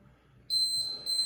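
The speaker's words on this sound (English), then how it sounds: "once it beeps" A high electronic timer beep sounds abruptly, holding steady, then briefly dips and repeats, clear and close over a quiet room.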